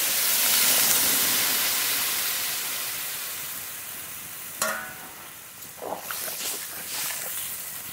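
Water poured into a hot pan of fried tilapia with green chilies, a loud broad hiss of steam and sizzle that swells then slowly fades, followed by a few clinks and stirring sounds nearby.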